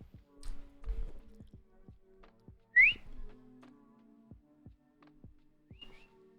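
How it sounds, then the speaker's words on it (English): A person tries to whistle, producing one short, rising whistle note amid soft taps and clicks, with a faint second attempt near the end, quiet and close. "Sometimes I can whistle and then sometimes I can't."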